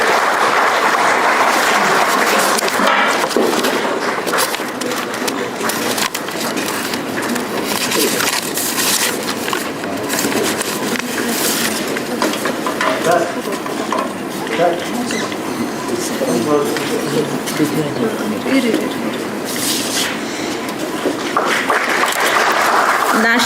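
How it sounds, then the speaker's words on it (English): A large audience at an international agricultural trade fair gives a long, loud round of applause that continues steadily, with voices faintly mixed in. "Ladies and gentlemen, I request for a big round of applause."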